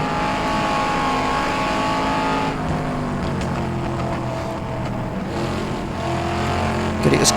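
A Shelby Cobra 260 races around Goodwood in rFactor 2, its engine a loud, close, continuous drone that drops in pitch as the car brakes hard into a corner, with tyre and wind noise around it.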